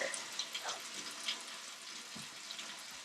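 Hot soapy water for washing a family milk cow's udder trickles and sloshes in a bucket, a faint, continuous watery splashing with no voices.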